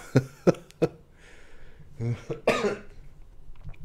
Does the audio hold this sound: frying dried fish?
no